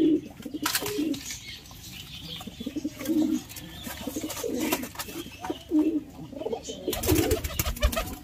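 Pigeons coo repeatedly in low, throaty bursts, a male and female pair kept as pets, with some wing rustling and a flap of wings near the end.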